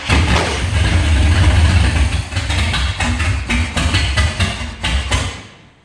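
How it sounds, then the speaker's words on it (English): A big-block engine running Megasquirt 3 engine management cold-starts with no throttle and settles into a loud, steady, rumbling idle close by, then cuts out near the end. "So this is the first attempt at a cold start."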